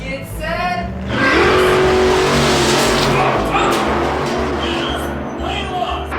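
Hot Wheels SpongeBob toy cars race down a six-lane plastic track, a loud rushing whir and rattle that rises suddenly and holds steady, with voices in the background.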